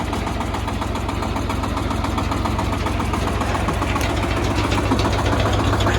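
A Shifeng 240 tractor engine runs steadily with a rotary tiller attached, a loud, even, rapidly pulsing diesel chug with a knocking vibration that holds throughout with no talk.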